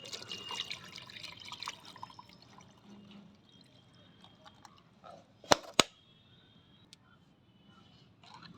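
Onion peel water strained into a homemade liquid fertilizer mix, heard as a soft, faint trickle and splash near the start, then quieter stretches broken by two sharp knocks or clinks around the middle.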